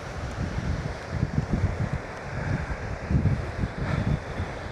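Wind buffets loudly in gusts while wild camping in the Lake District, with low rumbling blasts against the microphone and a constant airy roar.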